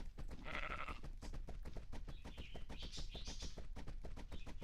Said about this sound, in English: I never have the stuff for sheep